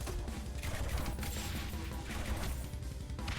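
Rapid rumbling bursts of mortar fire from a space-themed strategy video game, dense and continuous with crackling impacts layered over a heavy low-end thud throughout.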